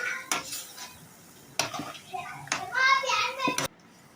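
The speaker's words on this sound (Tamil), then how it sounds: "அதையும் நல்லா கிளறி விட்டுக்கலாம்." Mutton pieces with masala powder stirred in a pan, a spoon scraping and clinking against the metal in short bursts with pauses between, with a light sizzle under the strokes.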